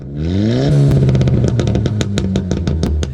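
Heavily modified 2018 Hyundai Elantra Sport making about 240 whp revs up loud, then its exhaust crackles and pops in a rapid, uneven burst of sharp bangs as it falls off throttle, close and alone.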